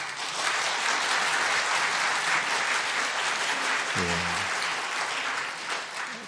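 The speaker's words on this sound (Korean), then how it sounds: "자기 마을이 제일 많이 나왔다고 생각하는 마을 박수 한번 쳐보세요." A church congregation claps loudly together during an evening revival service, a dense, steady wash of applause filling the whole stretch, with a brief spoken word from a man partway through.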